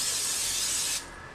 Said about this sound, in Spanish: le vamos a agregar un aerosol para que no se peguen